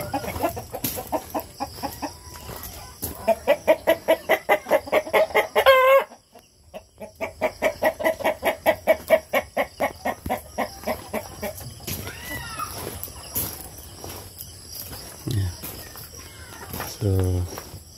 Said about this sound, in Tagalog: ito po ang ating mga alagang mga manok